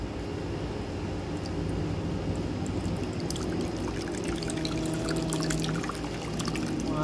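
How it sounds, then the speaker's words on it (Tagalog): Water poured into a pot beneath a steamer tray, a steady splashing and trickling flow with bright droplet sounds growing busier toward the end, close by over a constant low background hum. "Tapos, lagay tayo yung tubig."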